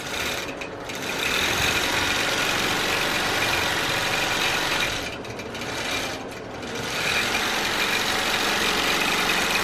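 A longarm quilting machine stitches a scallop quilt with a steady mechanical hum that runs continuously, dipping briefly twice before resuming, close and fairly loud with no talking.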